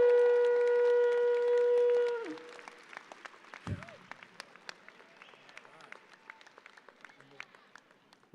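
A long shofar blast at a university commencement ends, then the audience breaks into scattered applause and cheers, with sparse claps and voices in a large hall, moderately distant and fading.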